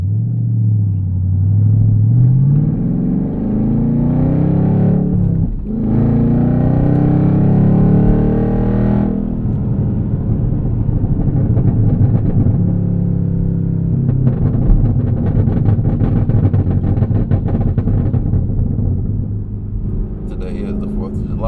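Chevrolet Camaro ZL1 engine driving on Detroit streets near 8 Mile, a loud deep rumble rising and falling through gear changes and revs, heard from inside with a voice talking over it.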